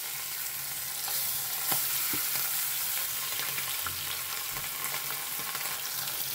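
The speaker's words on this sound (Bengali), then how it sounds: "ইলিশ মাছ ভাজা কিন্তু সরিষার তেলেই" Hilsa fish frying in mustard oil at home, a constant close sizzle with scattered sharp pops and occasional stirring, with no voices.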